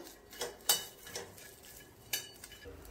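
Cluster beans (gavar) stirred and dry-roasted in a pan over high heat, giving a few sharp scraping clinks of a utensil against the pan among softer rustling, close and fairly quiet, with no voices.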